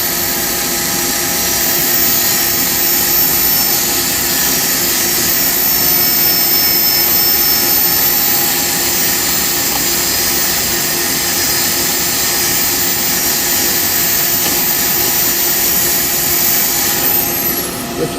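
A steady, loud whirring drone of a spinning lathe with sanding against elm burr wood, continuous and close for the whole stretch, no voices.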